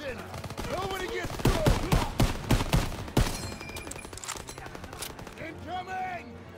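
Heavy gunfire in a Call of Duty: WWII battle, with loud sharp bursts and volleys of rifle and machine-gun fire in rapid succession, while voices shout over the combat.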